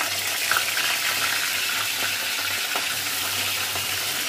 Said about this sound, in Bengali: এই যে ডালটা বাগার দিয়ে নিছি